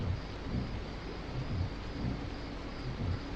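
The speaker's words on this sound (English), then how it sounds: "Oh, that rain. So that's the noise outside." Steady rain hisses outside as a continuous wash of noise, with low rumbling gusts rising and falling beneath it.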